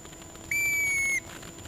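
A referee's whistle at a quadball match blows one sharp, steady, high-pitched blast lasting under a second, clear over faint outdoor background noise.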